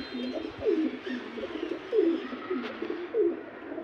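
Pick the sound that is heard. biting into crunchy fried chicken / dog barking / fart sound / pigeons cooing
pigeons cooing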